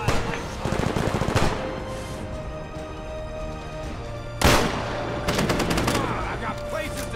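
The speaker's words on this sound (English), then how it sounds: "Oh, they're shooting at me." Enemy gunfire in Fallout 4 rattles in bursts of rapid automatic shots, with a sharp loud blast partway through and more volleys after it, over a steady game background.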